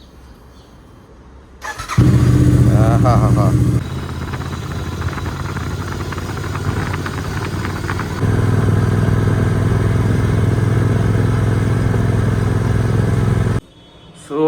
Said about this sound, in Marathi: लेट्स स्टार्ट गाडी.